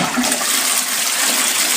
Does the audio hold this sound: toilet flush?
yes